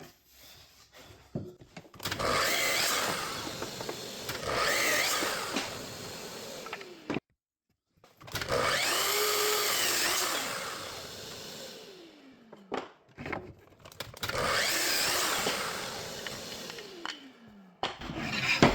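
A table saw rips a wooden door stile for an 18 by 11 inch raised panel door, three long loud cuts with whining blade and brief pauses between them, no talk.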